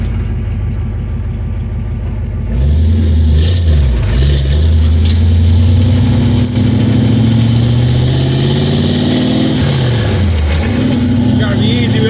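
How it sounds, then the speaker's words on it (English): A 1929 Model A hot rod with a big-block engine cruises loudly, its low rumble rising and falling through gear changes after a brief idle, steady and close throughout. "Nothing like cruising a hot rod."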